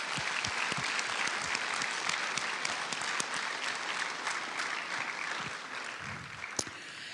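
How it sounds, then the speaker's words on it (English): Round of applause for seniors at a high school scholarship awards ceremony: a large audience claps steadily and continuously, full and close, with a few sharper individual claps near the end. "Let's give a round of applause not only for the amount of money"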